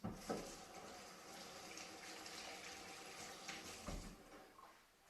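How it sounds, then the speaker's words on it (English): Tap water runs steadily in a kitchen sink while hands are wetted before folding sourdough dough, a continuous broadband rush with a couple of brief splashy surges, fairly close and with no talking. "So I'm going to wet my hands."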